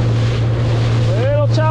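A jet ski heading out of a no-wake zone on a windy, choppy Barnegat Bay, New Jersey, with a steady low engine drone, constant wind buffeting and a brief voice near the end.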